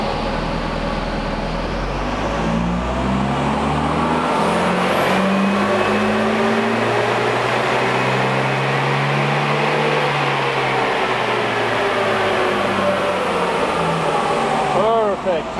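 An engine on a dyno pulls at full throttle during lean best power tuning, its loud, rising drone sweeping upward steadily before cutting off near the end.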